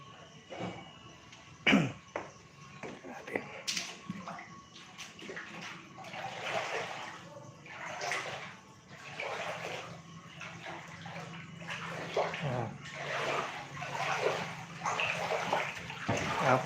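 Rising floodwater in Macabebe, Pampanga sloshes and rushes steadily nearby, with a sharp cough and faint voices breaking through the continuous watery noise.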